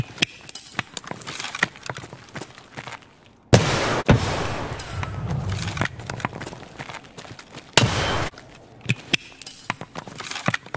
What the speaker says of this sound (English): If I throw a grenade off that back wall, it's almost always going to bounce left and detonate by the red oxygen tanks.